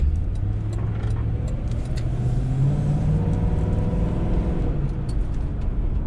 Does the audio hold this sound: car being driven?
yes